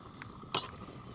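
Eggplant fries in a pan, a faint, close sizzle with one brief sharper burst partway through.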